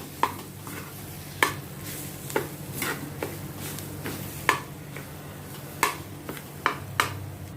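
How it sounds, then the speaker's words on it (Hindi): Food being stirred and mixed with spices in a frying pan at home, a soft steady sizzle broken by repeated sharp clinks and scrapes of a spoon against the pan at irregular intervals, close and fairly quiet. "इनको मसालों के साथ अच्छी तरह से मैं मिक्स करती हूँ।"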